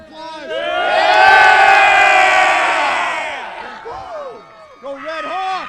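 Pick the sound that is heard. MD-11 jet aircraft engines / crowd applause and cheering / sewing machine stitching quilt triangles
crowd applause and cheering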